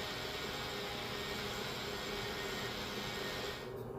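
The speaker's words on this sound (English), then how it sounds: "I then started to do some of the final grinding and shaping." Power grinding while doing final shaping on a handmade slingshot: a steady, loud, broadband whir that runs continuously for several seconds, then cuts off just before the end.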